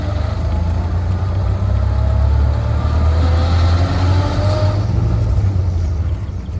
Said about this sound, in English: So this is the double clutch action we're talking about.